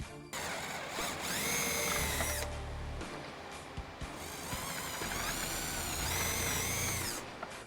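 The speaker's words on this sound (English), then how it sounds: "I can now drill out my 2 holes." A power drill whirs loudly and continuously close by, its pitch rising and falling as it bores two holes through wood in two long runs with a short break between.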